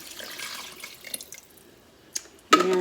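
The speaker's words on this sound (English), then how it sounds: "I'm going to fill the jar up with some water and just shake it up a little bit, get all that spaghetti sauce out of there." Tap water runs into a jar holding leftover spaghetti sauce, a soft trickle and a few drips, then a sudden louder rush of water pouring at the end.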